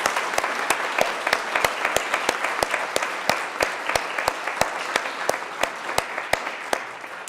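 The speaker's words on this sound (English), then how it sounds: "Let's give them another round of applause." An audience applauds the finalists of a 2025 Three Minute Thesis competition, continuous clapping with sharp, distinct individual claps standing out close by over the dense crowd sound.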